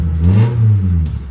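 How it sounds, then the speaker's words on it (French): A Honda Accord coupé with a loud tuned exhaust revs up and settles back, a deep, close, booming drone that swells and falls over about a second with audible vibration. "je vais me rapprocher du pot d'échappement. Là ça vibre, ça fait bien du bruit."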